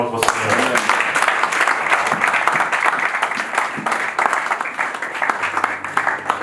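A church congregation bursts into sustained applause, dense clapping from a large crowd with some cheering voices mixed in, continuous and fairly loud throughout.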